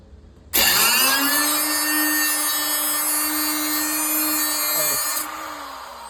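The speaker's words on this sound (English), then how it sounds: "That way the blade hits the metal before the cutter itself or the grinder handle itself." An angle grinder spins up and bites into the sheet-metal floor of a 1985 Squarebody truck, holding a loud, steady high-pitched whine with a cutting rasp for several seconds before winding down.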